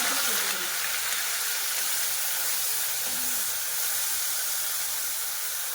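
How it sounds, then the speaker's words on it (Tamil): Fennel and cumin seeds tempering in hot oil, a steady broadband hiss and sizzle running throughout with no talk. "கொஞ்சம் சோம்பு சும சீரகம் சேர்த்து தாளிப்பு கொடுத்துக்கலாம்"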